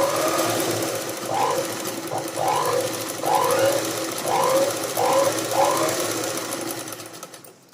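A sewing machine stitches a pico edge on a saree with white thread, giving a steady mechanical whirr that surges and eases in about six repeated bursts, close and loud, with no talking.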